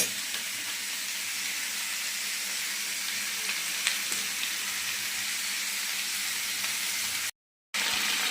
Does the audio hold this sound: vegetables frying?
yes